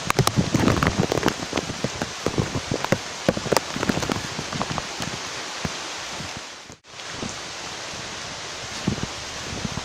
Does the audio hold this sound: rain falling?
yes